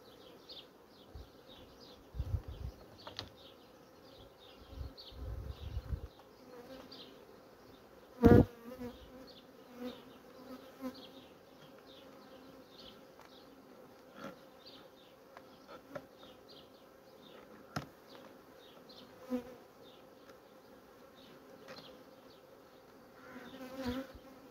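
Honeybees buzz softly and continuously around an open hive in a strong colony, with scattered louder passes of single bees and a few knocks and handling bumps.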